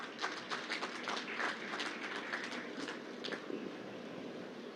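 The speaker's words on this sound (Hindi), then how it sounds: "जोरदार तालियों से स्वागत" A crowd applauds loudly to welcome BJP national president Jagat Prakash Nadda at the inauguration of the new Delhi BJP office, with dense, steady clapping and scattered cheers throughout.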